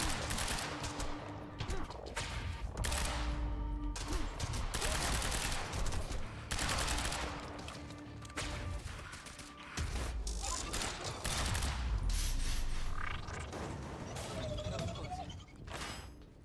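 Assault rifle fire in the action game Quantum Break, loud sustained bursts and rapid volleys alongside crashes and impacts, with a few short pauses between bursts.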